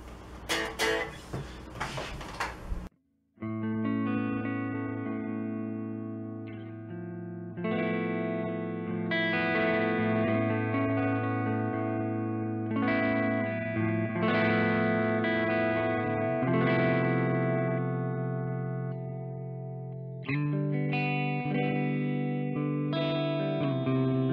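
Electric guitar plays sustained chords and lead lines, moving between clean, chorus-tinged tones and crunchy distorted ones, loud and alone after a brief opening noise.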